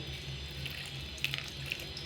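A short stretch of water running steadily from a tap, a soft even rush with a few faint splashes and drips, no talking.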